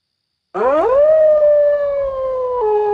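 A black dog in a Bengali horror cartoon lets out one loud, long howl that rises sharply at the start, then holds a steady, slightly wavering wail for over two seconds, alone after a moment of silence.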